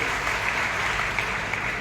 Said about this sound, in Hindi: मैं कहूँगा कि तालियां बजाओ इनके लिए।